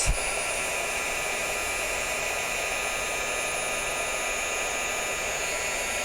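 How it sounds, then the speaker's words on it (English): An electric heat gun for embossing crafts blows steadily at close range, a loud, even hiss with a high whine running unbroken throughout, with no voices. "waiting for my heat gun to get hot"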